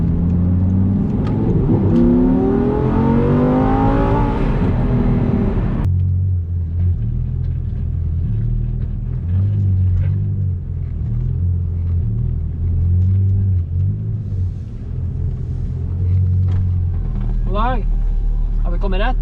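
850 HP Audi R8 supercar driving, its engine revving up through rising pitches before settling into a steady, low rumbling drone, with people talking over it.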